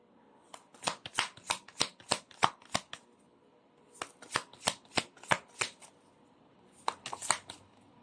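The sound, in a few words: shuffling tarot cards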